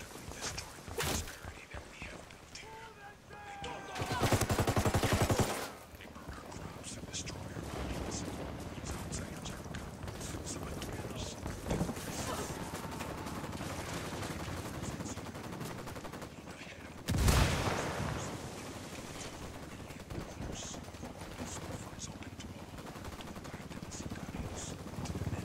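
Gunfire in the video game Ghost Recon Wildlands: a sustained, busy battle soundscape with shots and bursts running throughout, plus two louder blasts near the start and again later, with whispered or quiet voices mixed in.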